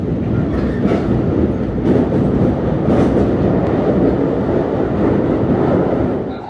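A Japanese local train rides the rails, its steady, loud rumble and wheel clatter filling the whole stretch without break, with no voices.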